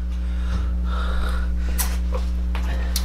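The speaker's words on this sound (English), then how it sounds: "I gotta blow my nose." A person blows their nose hard into a napkin, with two or three sharp, close nasal blasts over a steady low hum, while eating spicy noodles.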